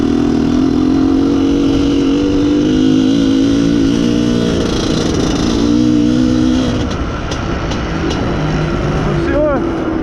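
An Izh Planeta Sport motorcycle engine, running lean, revs loudly and steadily up close, its tone wavering and dropping before a quick high-pitched rev flare near the end.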